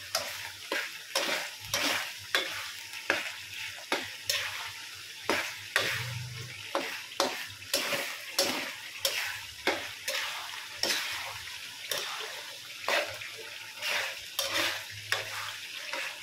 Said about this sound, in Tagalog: Lagyan siya ng sugar. Tapos, halu-haluin lang.